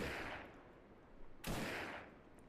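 Two quick sniper rifle shots fired in a video game, each a sharp crack trailing into a long fading echo, roughly a second and a half apart and quiet overall.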